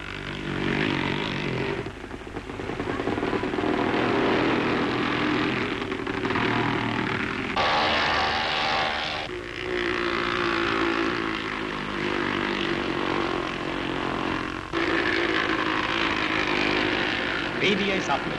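Latvian-made motorcycles from the early 1950s race on snowy winter roads in Riga, their engines roaring loudly and continuously with rising and falling passes; a commentator's voice runs over the noise.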